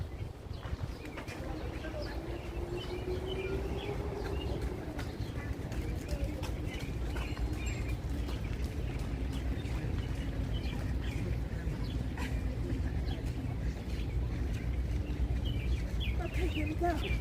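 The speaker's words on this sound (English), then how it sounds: "Hear the birds." Pigeons coo and small birds chirp along a busy Upper East Side street near 5th Avenue in New York, soft and intermittent beneath steady traffic rumble and passing voices.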